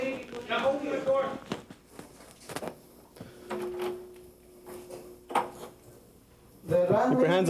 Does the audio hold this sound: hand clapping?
no